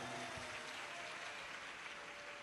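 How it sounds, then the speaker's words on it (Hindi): Large audience at a Shiv Mahapuran religious discourse clapping loudly for a daughter newly made sub-inspector, a dense continuous roar of applause with faint tonal hum underneath. "एक बार बेटी के लिए जोरदार ताली बजाओ"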